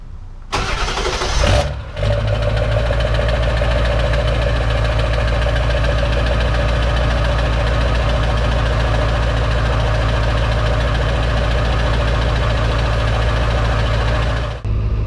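A truck engine cold-starts with a brief cranking burst, then settles into a loud, steady idle with a low rumbling drone and faint knocking, running alone close by until the end.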